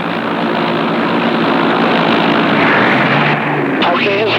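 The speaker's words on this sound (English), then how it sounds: "In South Vietnam, American aircraft met less resistance." An American military aircraft engine from Vietnam War footage drones loudly and steadily, a close, continuous propeller-like roar that stays level throughout, with a brief warbling tone near the end.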